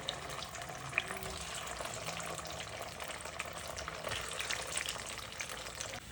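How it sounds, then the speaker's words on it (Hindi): Wheat dough balls (baati), a second batch, fry in oil in a pan with a steady, even sizzle and hiss that holds at a constant level throughout, with no talking. "अब इसे भी फ्राई होने देंगे।"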